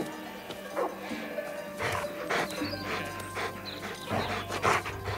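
A small Pyrenean shepherd dog barks and pants in short bursts while herding, the sounds irregular and fairly close, with scattered thuds and movement in the background.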